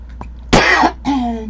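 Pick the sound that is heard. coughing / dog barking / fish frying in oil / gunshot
coughing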